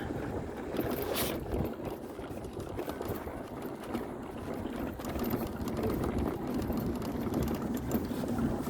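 Scooter engine running steadily with a noticeable judder and shake, a continuous rough broadband drone heard up close over wind noise, with no break across the stretch.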